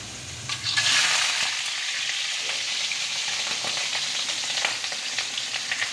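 Fish frying in hot oil, a steady close sizzle and crackle throughout with no talking.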